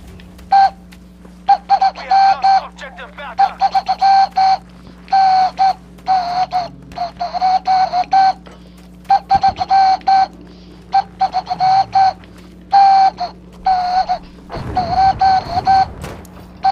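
Flute melody played in Battlefield V, a series of clear sustained whistling notes in short phrases repeating throughout over a low steady game hum, with a brief burst of noise near the end.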